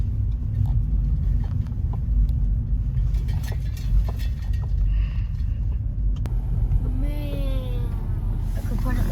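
A lifted 2024 Honda Passport crawls over a bumpy off-road obstacle course at Overland South, its steady low engine rumble filling the cabin while people talk over it throughout.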